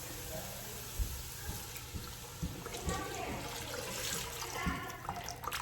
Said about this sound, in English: so now we're going to add 2 cups of beef broth.